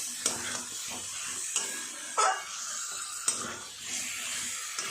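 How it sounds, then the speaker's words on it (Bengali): Chicken with potatoes and papaya being sautéed in a pan, a steady close sizzle and hiss broken by occasional scraping stirs and clinks of a utensil against the pan, with no talking. "এর মধ্যে আমি আলু আর পেঁপেগুলোকে দিয়ে দেবো, দিয়ে আরও ভালো করে কষিয়ে নেব।"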